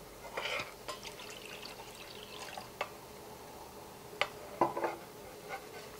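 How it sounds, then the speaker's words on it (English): Half a cup of water is poured and dribbles into a medium-sized pot of pumpkin in coconut milk nearby, a soft splashing trickle with a few drips and clinks, fairly quiet. "dilute it with 1/2 cup of water"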